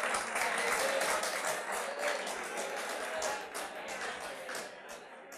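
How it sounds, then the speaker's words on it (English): Students applaud in a lecture hall, a dense, steady patter of many hands that fills the room and slowly thins toward the end. "this clapping is completely uncalled for"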